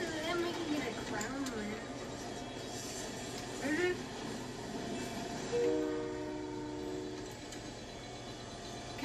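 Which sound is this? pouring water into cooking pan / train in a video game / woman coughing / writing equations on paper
train in a video game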